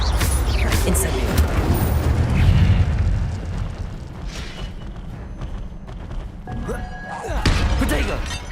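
The Incendio fire spell is cast in the Hogwarts Legacy video game, a loud roaring burst with rumbling booms that fades into a softer crackling tail before another sharp flare.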